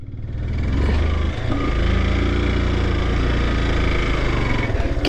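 A motorbike engine idles close by with a steady, loud low rumble on a roadside in Nepal, holding an even throb throughout with a brief dip near the start.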